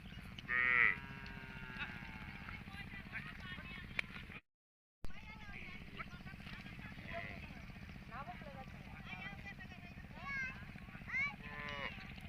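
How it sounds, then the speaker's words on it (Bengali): Herd of about a hundred cattle grazing in a quiet haor wetland in the afternoon. Faint lows and movement sit under a steady background, with a person talking through most of it. "গরু এখানে আছে প্রচুর একশোর মতো গরু হবে"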